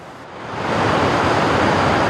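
High waves crash and surge onto a beach in Indonesia during a period of dangerous swells, a loud, continuous roar of surf building within the first second and holding steady, with no voices.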